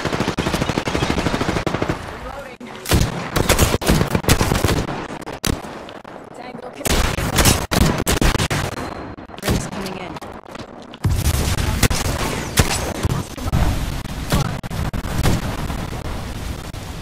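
Video game gunfire in Apex Legends, loud bursts of rapid automatic shots and single cracks coming in clusters with short pauses between, close and dominant, with talk mixed in.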